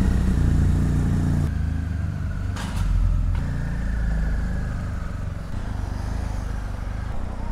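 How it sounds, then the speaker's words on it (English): A BMW motorcycle is ridden on city roads, its engine droning loudly and steadily up close with rumbling exhaust and passing traffic around it, and no talk. "Finally sitting on my bike, literally after I think 13 or 14 days."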